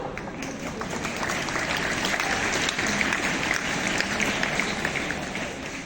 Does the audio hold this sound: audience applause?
yes